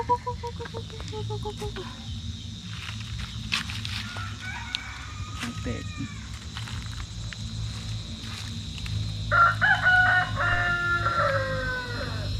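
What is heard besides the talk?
chickens clucking and a rooster crowing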